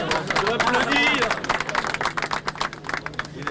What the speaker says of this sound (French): Je l'applaudis.